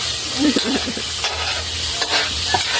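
Tilapia frying in a pan gives a steady, close sizzle of hot oil with a few soft stirring or shifting sounds, and no talk over it.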